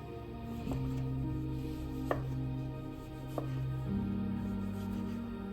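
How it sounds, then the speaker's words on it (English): Knife chopping vegetables on a cutting board while making chicken wild rice soup, a few sparse separate chops standing out faintly over a steady background hum. "You slice them and then chop at the end."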